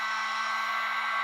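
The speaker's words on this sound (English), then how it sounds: "you're supposed to be able to take a heat gun" A heat gun or blow dryer blows a steady, even whoosh on puffy snow paint, heard alone and close for a brief moment.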